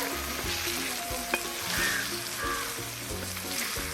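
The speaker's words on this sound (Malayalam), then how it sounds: "ബീഫ് ഇതിലേക്ക് ഇട്ട് കൊടുക്കുക. എന്നിട്ട് നന്നായിട്ട് ഇളക്കി മിക്സ് ചെയ്ത് കൊടുക്കുക." Beef frying for kadukittu varattiya beef, a Kerala-style mustard-seasoned dish, sizzling steadily in a pan while a spoon scrapes and stirs it in repeated strokes, with one sharp clink against the metal.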